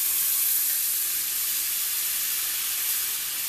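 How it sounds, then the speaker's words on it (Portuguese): Butter sizzling in a pressure cooker on a stove: a steady, close, bright hiss that runs unbroken throughout, with no talk. "panela de pressão ao fogo, nós vamos colocar a nossa manteiga"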